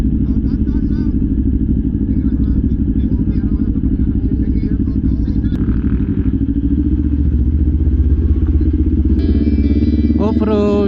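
Kawasaki Ninja 500 SE big bike riding off-road in the province: a loud, steady motorcycle engine drone close to the microphone with a low rumble, some clatter and a brief rising rev near the end.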